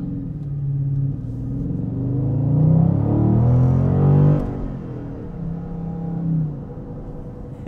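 A 2021 Dodge Charger Scat Pack engine rumbles and rises in pitch as it accelerates, peaking loud before easing off, then swelling briefly again, heard close with no talking.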